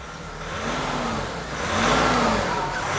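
A Nissan Navara NP300 2.5 turbo diesel pickup engine runs and revs in two swells, with a faint rising turbo whistle over the steady rumble, fairly close.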